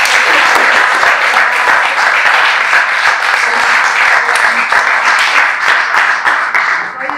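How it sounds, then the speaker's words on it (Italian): Loud, dense applause from a sizable theatre audience in a museum, sustained throughout and tapering slightly at the end. "Direi che facciamo un altro applauso a Giuliano Scaglia."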